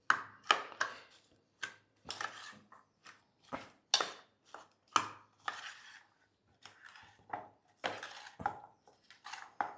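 Quiet, close clinks and scrapes of crushed garlic being stirred into pickle ingredients in a bowl, irregular bursts of mixing with short pauses between them and no talking.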